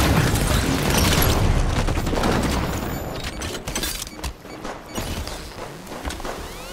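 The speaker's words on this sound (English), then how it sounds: "Grenade out!" A grenade detonates in Halo 5 with a heavy, close boom that rumbles and fades into scattered debris and sporadic gunfire, with no talking.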